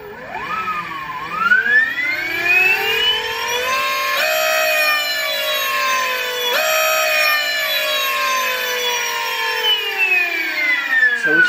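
A 50 kW electric supermoto motor spins up with a rising whine, its tones sweeping upward, dipping and climbing again, then holding a loud, steady high-pitched hum close by.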